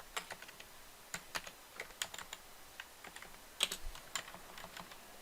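Computer keyboard keys tapped while writing C# code, irregular light clicks and bursts of keystrokes, quiet and close, with no talking.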